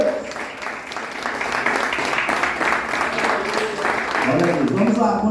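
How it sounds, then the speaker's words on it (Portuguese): A church congregation applauds steadily through a continuous, dense wash of clapping, while a voice speaks over it and grows more prominent toward the end. "Você pode aplaudir Jesus por isso?"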